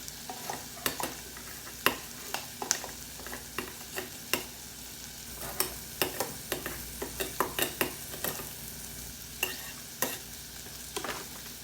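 Roasted chickpea flour is stirred into a green bell pepper curry sizzling in a pan, with a steady frying hiss and irregular sharp spoon clacks against the pot, close up and without talk.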